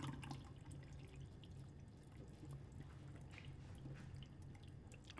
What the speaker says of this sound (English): So I'll just pour the excess water, just slowly like that.